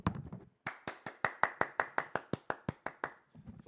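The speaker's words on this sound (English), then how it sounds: "Clap it up for the llama." About sixteen sharp, close claps in a steady, even rhythm from a single person, clear and isolated, with brief low voice sounds just before and after.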